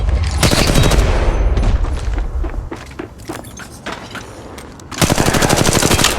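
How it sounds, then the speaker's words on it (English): Rapid automatic gunfire in Apex Legends Mobile, with loud bursts at the start and end and scattered single shots and footsteps between them. "Shots fired at me."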